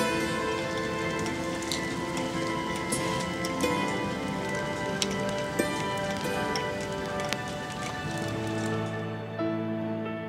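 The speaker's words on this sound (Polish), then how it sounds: "przed chwilą jeszcze deszcz bardzo mocno padał, teraz jakby już się chyba kończy, ulewa" Heavy rain patters steadily on a surface during a downpour that is beginning to ease, a dense, continuous hiss with occasional louder drops and a faint low hum underneath, no talking.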